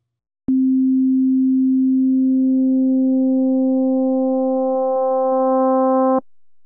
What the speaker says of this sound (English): I'll turn up the level control to modulate A using the sine wave of B.